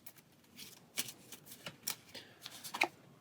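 A weapon card deck from the Pathfinder Adventure Card Game is shuffled by hand, producing quiet, close rapid riffles and soft slaps of cards in an irregular run, with no talking.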